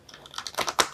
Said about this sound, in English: I told myself I was going to start shuffling this deck